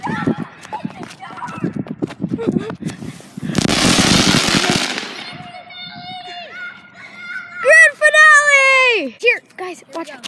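Fireworks and firecrackers set off outdoors, a burst of crackling pops followed by sharp whistling rockets rising and falling nearby, with people talking and shouting in between.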